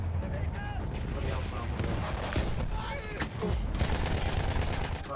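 A fast-firing gun in Battlefield 1 rattles in rapid, continuous bursts amid a busy battlefield din with other distant shots, while a player talks over it throughout.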